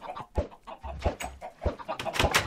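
A chicken in the video game Minecraft clucks in a quick run of short, close, fairly loud calls with thumping sounds between them.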